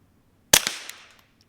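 A single suppressed shot from a Taurus TX22 pistol: one sharp, loud crack with a short ringing tail, standing alone against near silence.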